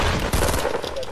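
Gunfire in the video game Fortnite: a dense burst of rapid shots crackles loudly through the whole moment, with a sharp extra report near the start of the second half and no voice over it.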